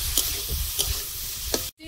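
Prawns fry in a pan with chopped onion, slit green chilli, salt and turmeric, giving a steady sizzle broken by three short stirring scrapes before the sound cuts off.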